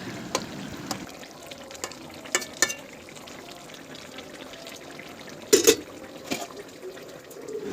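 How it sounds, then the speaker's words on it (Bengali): Fish pieces stirred in a pan of simmering curry, with a soft bubbling sizzle and a few sharp clinks of a spoon against the pan, quiet and close. "মাছগুলো দিয়ে দেওয়ার পরে ভালো করে নেড়ে চেড়ে দেবো, দিয়ে আমি ঢাকনা দিয়ে দেবো।"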